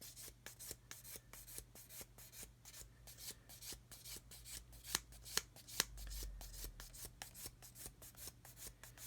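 Quiet, rhythmic rasping strokes of 400 grit sandpaper rubbing along a plastic model kit seam, each pass a short scratchy swipe repeating steadily, close and faint over a low background hum, with no speech.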